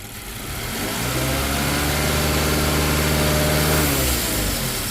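A Mazda car engine revs up steadily while its throttle body is being cleaned, building from idle into a loud, sustained rev that holds for several seconds before easing off slightly, with no talking.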